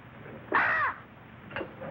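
A single harsh crow-like caw rings out clearly, followed by a shorter faint second call, with a quiet background and no talking.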